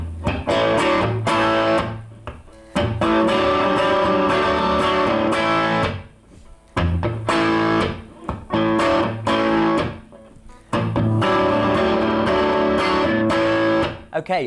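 A song's main riff on a distorted electric guitar, loud punchy chord stabs in repeating phrases separated by brief gaps of ringing and near silence.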